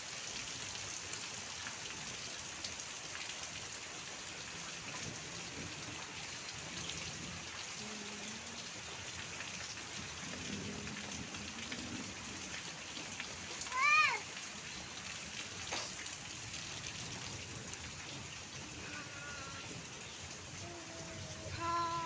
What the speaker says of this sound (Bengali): আর এই দেখো বৃষ্টি।